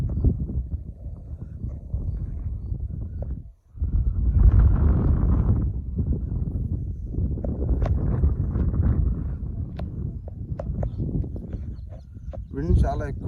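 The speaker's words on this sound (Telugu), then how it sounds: "విండ్ చాలా ఎక్కువ ఉన్నట్టుంది పైకి కదా" Strong wind on a hilltop buffets the microphone with steady, loud low rumbling for the whole stretch, easing briefly once before resuming at full force, with no one talking.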